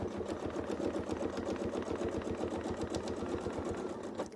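Sewing machine stitching down fabric on a Persian turrets piece, a close, even rapid patter of needle strokes running continuously throughout.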